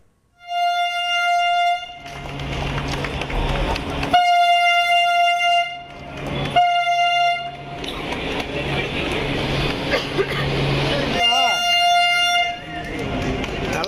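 A driverless metro train rumbles past with repeated loud horn blasts, long steady tones separated by bursts of rolling rail noise, during a test run in Chennai.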